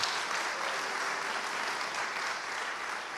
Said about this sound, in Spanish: Denle un aplauso al Señor Jesucristo, hermano.